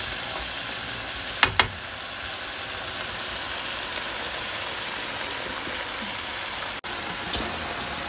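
Tomatoes sizzle in a pan of butter chicken gravy as they are stirred and broken down, a steady dense frying hiss with a couple of faint spoon knocks, close and without talk.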